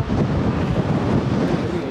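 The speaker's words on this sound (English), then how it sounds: "It's a bit windy though" Steady wind buffeting the microphone on Tower Bridge in London, a loud low rumble with no pauses, blowing throughout.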